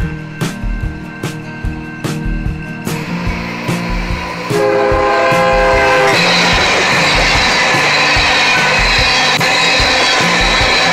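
Rhythmic clacking of train wheels over rail joints in Flomaton, Alabama, then a loud horn blast joins in and holds over the heavy rumble of the passing train.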